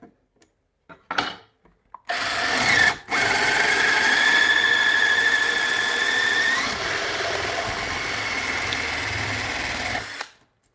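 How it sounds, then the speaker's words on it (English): An auger bit on a drill bores straight down through a wooden mortise, a steady loud whirring grind running about eight seconds after a few brief knocks, with one short pause early on. "when you drill down through a mortise like this, that you're coming down at 90 degrees"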